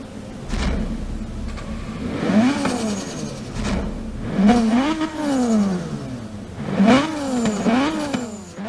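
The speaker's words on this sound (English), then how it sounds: "we're going to rev this engine for you now" A Mazda RX-7 engine in Forza Horizon 3 revs repeatedly, pitch sweeping up and down in several sharp bursts, loud and close with synthetic, game-like tone.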